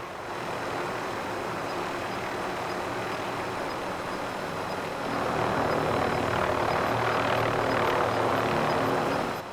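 A video game helicopter in Call of Duty, a steady, droning rotor-engine roar that swells louder halfway through, continuous and close, with no voices over it.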